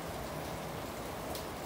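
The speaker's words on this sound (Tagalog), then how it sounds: "malakas kasi ang ulan ngayon dito" Steady, dense heavy rain hiss with no pauses, a constant wash of falling water heard at moderate loudness.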